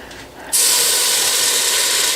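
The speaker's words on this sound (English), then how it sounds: "As you can hear, it's a nice sizzle." A loud, steady sizzle of coconut fat hitting a hot pan bursts in after a short quiet moment and keeps hissing without letup.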